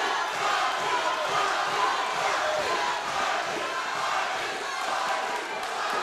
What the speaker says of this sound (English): Crowd getting involved here, chanting for their guys.